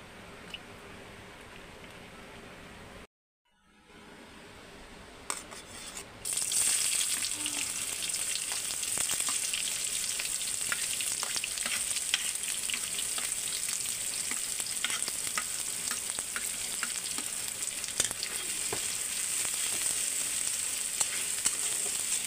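Chopped onion and garlic frying and being stirred in a pan, a continuous loud sizzle with scattered crackles after a brief silent gap near the start.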